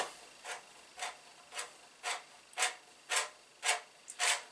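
A hand reamer is twisted through a polycarbonate RC car body, giving about eight soft rasping scrapes at a steady rhythm, close and fairly quiet with no talking.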